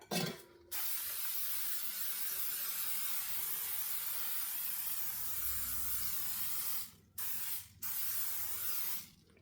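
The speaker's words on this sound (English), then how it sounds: "I'm using my bundt pan, and I use just a Kirkland cooking spray" Long continuous hiss of Kirkland aerosol cooking spray into a bundt pan, broken by a few brief pauses near the end, close and steady.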